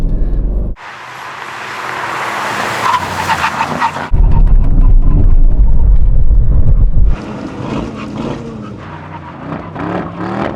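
Aston Martin V12 cars brake hard in a brake test. Loud, close tire skidding and rushing wind buffet the microphone, and a heavy rumbling section gives way to a slightly quieter, scuffing stretch.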